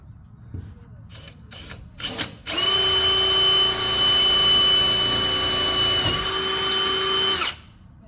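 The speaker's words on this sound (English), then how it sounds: "Let me get my drill." A power drill starts with a few short bursts, then runs loud and steady for about five seconds at a high whine before stopping, drilling into an RV to add reversing lights.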